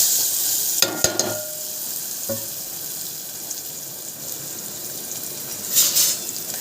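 Onion, turmeric and curry leaves frying in a kadhai, a constant hissing sizzle with a few sharp spoon clinks near the start and a brief louder stir toward the end.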